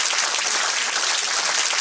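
Steady, dense applause from an audience at the Etoiles de Mougins 2014 gastronomy awards, honouring a best pastry chef, continuous and fairly loud throughout with no voices.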